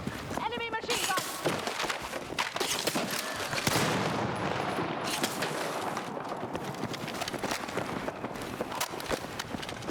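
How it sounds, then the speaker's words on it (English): Enemy machine gun fire in the video game Battlefield RedSec, heard as dense rattling bursts and scattered gunshots mixed with running footsteps and game effects, fairly busy and continuous throughout. "Enemy machine gun!"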